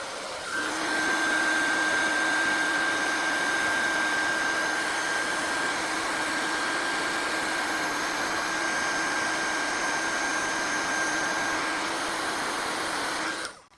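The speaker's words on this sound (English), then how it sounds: "So do please be careful when you go in with your heat tools." A craft heat tool melts gold embossing powder on a stamped gingerbread man, blowing a loud, steady whirring hum close to the microphone that holds unbroken for over ten seconds before cutting off.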